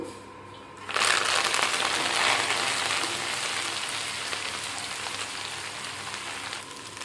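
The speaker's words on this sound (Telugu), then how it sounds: "ఒక యాభై గ్రాముల ఆయిల్ వేసుకుని కొత్తిమీరని కూడా వేయించుకోవాలి" Coriander leaves dropped into about fifty grams of hot oil for an Andhra-style coriander pickle, bursting into a loud, steady sizzle after a second of quiet and holding a dense crackle throughout.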